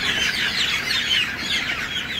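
Hens being beak-trimmed with heat give a steady, moderately loud mass of clucks and squawking cries, short and continuous, without any talking.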